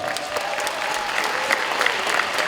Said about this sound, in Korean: 여러분 공감하시면 큰 박수 한번 보내주시기 바랍니다.